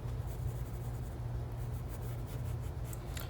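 An H pencil scratches steadily across paper while sketching a figure, a close, continuous soft rasping with faint stroke-by-stroke variation and no talk.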